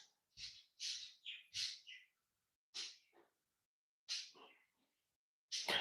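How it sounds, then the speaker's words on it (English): Small birds chirp and tweet outdoors in short, bright bursts separated by pauses, a handful of clear calls heard alone and fairly close. "Those are birds, yes."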